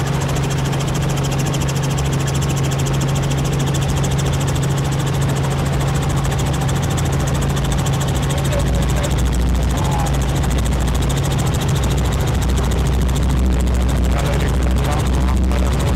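Loud, constant helicopter engine and rotor drone inside the cabin during a tour flight, climbing after takeoff, filling the whole span with steady heavy vibration.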